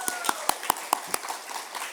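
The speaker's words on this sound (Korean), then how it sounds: "잘했으면 박수" A small church group at a Friday prayer meeting claps in a quick run of about eight sharp, separate claps that thin out and fade toward the end.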